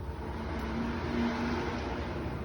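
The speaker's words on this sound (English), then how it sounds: "sound like somebody's racing down the street" A car racing down a street outside a home garden, heard as a steady, moderately loud engine roar with a faint revving whine, somewhat distant and alone.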